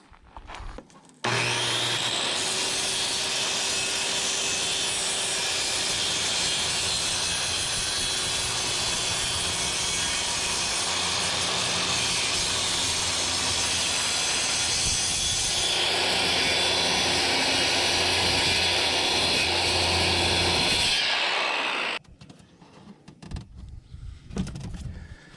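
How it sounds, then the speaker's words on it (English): Circular saw slicing through a board outdoors, a loud continuous whine lasting about twenty seconds that starts abruptly and stops sharply, followed by faint handling noises. "I've never cut this stuff before, so hopefully it cuts okay with a circular saw"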